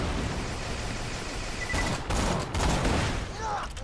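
Rapid bursts of video-game gunfire hammer turrets in Borderlands 2, dense crackling shots coming in clusters with a faint voice underneath.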